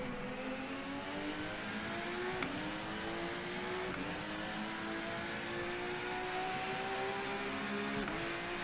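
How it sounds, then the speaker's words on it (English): Race car engine in the Rennsport racing game on PS5, a steady loud drone with rising pitch through the gears and brief dips at each shift, heard alone without talk. "So this car sounds pretty good."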